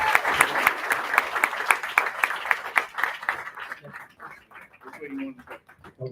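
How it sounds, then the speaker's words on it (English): Applause from an audience at a school board meeting honouring high school students, rapid clapping for several seconds before thinning out, with voices speaking over the fading claps. "let's give them a round of applause."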